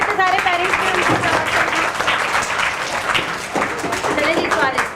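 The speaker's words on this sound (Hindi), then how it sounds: "क्लैपिंग हो जाए तो सारे पेरेंट्स" Parents in an audience at a children's summer school event clap together, a loud, sustained burst of applause from a crowd with voices mixed in underneath.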